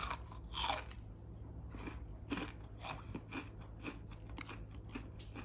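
Crispy karaage fried chicken, dressed with lime and dipped in mayonnaise and shichimi, being bitten and chewed close up: a sharp crunch followed by a run of smaller crackling chews, with no talking.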